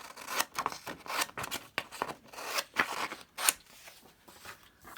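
Scissors snip through excess paper on a decorated front cover, sounding as a quick run of close, crisp cuts and rustles at an uneven rhythm, quiet and with no talking.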